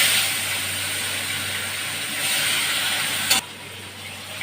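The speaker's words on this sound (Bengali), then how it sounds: "এবার ভাজিয়ে দিলাম।" Bhetki fish pieces coated in salt and turmeric frying in hot oil in a pan, a steady close sizzle that holds for several seconds, then drops after a short clatter.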